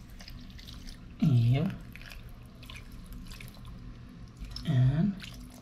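Half a cup of water poured into a cooking pot at an outdoor cook-up, two short splashing pours a few seconds apart, close and fairly loud, with someone speaking briefly between them.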